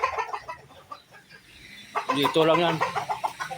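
Backyard chickens cluck and chatter in the morning, scattered close calls rising into a busier burst of clucking, with someone speaking briefly amid the birds.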